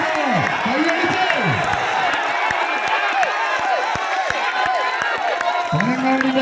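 Spectators at a sevens football match in Panangad, Ernakulam, keep up a continuous loud crowd roar with clapping and cheering while a commentator talks over them.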